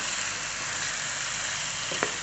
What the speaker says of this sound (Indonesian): Jadi kita tumis dengan bumbu